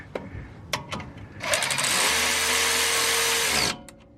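A power tool spins a bolt on during a rear Eibach Pro-Lift spring install on a Toyota RAV4 Prime: a few sharp clicks, then a loud, steady whirring drone for about two seconds that stops abruptly.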